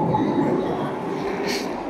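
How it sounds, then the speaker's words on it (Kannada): A tram rolls along a city street in Istanbul near the Grand Bazaar, giving a steady low rumble of wheels on rails with a brief higher hiss or squeal, heard close amid street ambience. "ಇಲ್ಲಿ ಟ್ರಾಮ್ ಹೋಗ್ತಾ ಇದೆ ನೋಡಿ."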